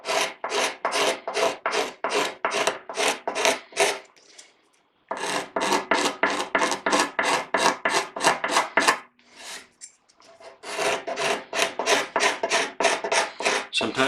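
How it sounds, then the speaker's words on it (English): A glass scraper shaves a curly maple mandolin neck in quick rhythmic strokes, a close, loud, raspy scraping repeated over a dozen times in bursts separated by two brief pauses. "rolling this glass till it's almost flat like we did the rasp just a minute ago"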